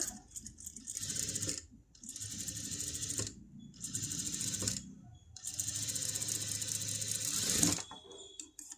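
A sewing machine runs in bursts while stitching around a blouse neckline, giving a rapid rattling whir that stops and restarts several times with short pauses between runs.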